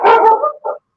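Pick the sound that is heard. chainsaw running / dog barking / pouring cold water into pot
dog barking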